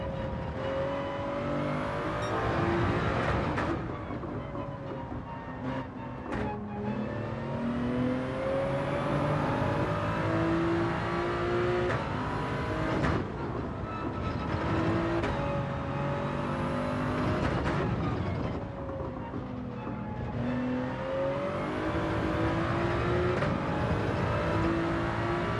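In Gran Turismo 7, a Toyota Supra and a BMW race with steady engine drones that rise in pitch through the gears, then drop sharply at each shift, while tyres whir beneath. The engines stay loud and continuous throughout, with no voices.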